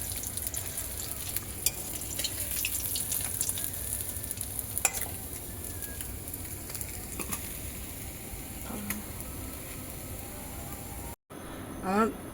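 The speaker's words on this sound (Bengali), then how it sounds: "এবারে মাছগুলো আমি ভেজে নেব" Fish frying in hot oil in a wok, a steady close crackling sizzle running throughout with a few sharp pops and light clatter, and a brief dropout near the end.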